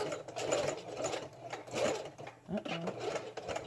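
A sewing machine back stitches along a hat, running in short bursts of rapid mechanical stitching with brief pauses between them, close and moderately quiet.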